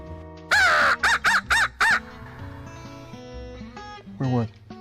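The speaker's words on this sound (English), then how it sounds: "Crow again." A crow caws in a run of four or five loud, harsh calls close by, then one more caw a couple of seconds later. Quiet outdoor background during the first day of turkey season in the woods.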